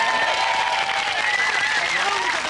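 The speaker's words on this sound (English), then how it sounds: "big round of applause for Sarah's top pickled skills" Studio audience applause on a 1998 television cooking game show, a steady dense wash of clapping heard at moderate level throughout, with a faint voice or music tones running underneath.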